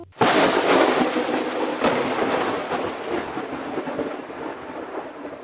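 Deep rolling thunder rumbles over a steady downpour of heavy rain, with wind, loud and continuous from start to end, in a radio drama.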